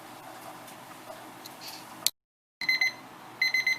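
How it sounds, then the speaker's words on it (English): Soft ticking runs along, then after a brief silence a kitchen timer begins beeping in short, repeated electronic bursts. "Okay, the timer's gone off."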